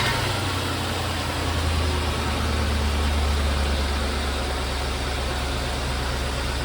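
An old car engine pulled from a salvage yard idles steadily nearby, a continuous low rumble with a faint whine on top and no pauses.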